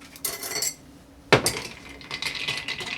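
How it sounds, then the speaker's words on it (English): A Seventh Heaven cocktail is stirred in a glass: a few sharp clinks of spoon against glass, one louder strike near the middle, then light scraping swirls close by. "Let's try and stir it."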